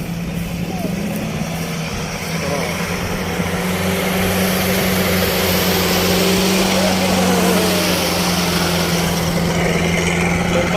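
A Kubota DC70 Pro combine harvester's engine drones steadily and fairly close in a rice field, a constant loud hum that runs throughout, with people talking faintly in the background.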